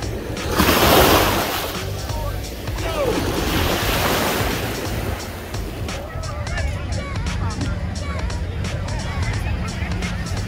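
Waves wash in at Miami Beach, Florida, a broad rolling surf roar with gusty wind noise on the microphone and a faint babble of distant voices in the background.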